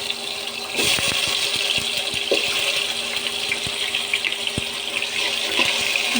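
Eggs and potatoes sizzle in hot regular cooking oil in a pan, a steady bright frying hiss with scattered pops and crackles running throughout, close and fairly loud with no voices.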